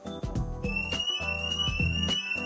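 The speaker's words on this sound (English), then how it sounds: "So the alarm's going to go off" Minut Point smart home alarm sounding, a rapid pulsing electronic siren with sharp repeated beeps and a high whining tone, loud and close over a short burst.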